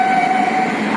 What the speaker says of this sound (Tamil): இதுதான் ட்ரெயின் போச்சு கரெக்டாக.